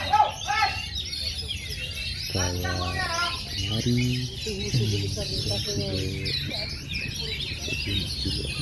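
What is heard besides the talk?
oriental magpie-robin (kacer) songbirds chirping at bird contest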